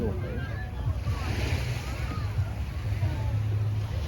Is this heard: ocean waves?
yes